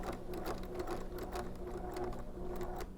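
A domestic sewing machine stitches zigzag slowly with the stitch length set to zero while sewing a waistband, giving a steady run of rhythmic needle clicks over a low motor hum.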